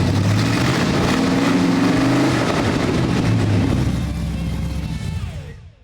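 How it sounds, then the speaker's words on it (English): A square-body tow truck engine cranks over and revs with a couple of sharp throttle pops, loud and close, then settles and fades out. "we were able to crank up the engine and give it a couple pops of the throttle"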